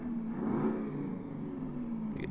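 A Peterbilt 362 cabover truck with an 8V92TA diesel of about 435 horsepower revs in American Truck Simulator, giving a steady, close, droning engine rumble that swells slightly early on and holds constant throughout.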